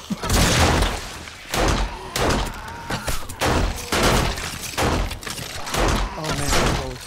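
Repeated gunfire from shooting zombies in 7 Days to Die, loud bursts and single shots recurring across the whole stretch with thuds between them and no speech.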